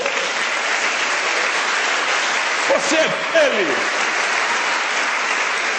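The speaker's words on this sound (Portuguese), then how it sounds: "Aplauda o Senhor." A church congregation applauds the Lord during a service, steady loud crowd clapping running throughout while a preacher's voice speaks over it partway through.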